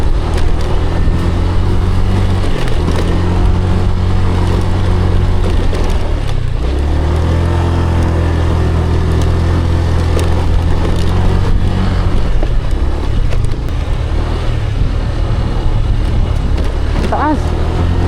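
A scooter's small engine drones steadily with shifting pitch as it climbs a rough road, rumbling and bumping, with wind noise and occasional voices over it.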